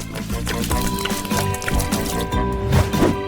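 Cola poured into an empty Pringles packet, a close, continuous gurgling and splashing of liquid with soft crinkly knocks of the packet throughout.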